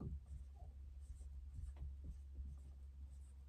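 Pen or pencil writing on paper, a run of soft scratchy strokes at close range over a steady low hum, with no talk.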